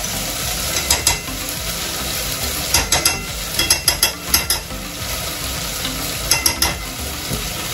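Aji amarillo paste heating in a pan on low heat for Peruvian chicken ceviche. A steady sizzle runs underneath, broken by clusters of quick scraping, clicking stirs from a spoon against the pan, close by.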